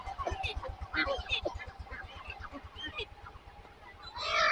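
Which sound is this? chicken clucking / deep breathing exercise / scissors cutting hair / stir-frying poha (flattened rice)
chicken clucking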